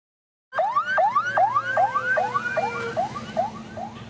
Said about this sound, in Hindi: इस एम्बुलेंस में कोरोना वायरस से मारे गए 72 साल के हसन रसन का शव रखा है।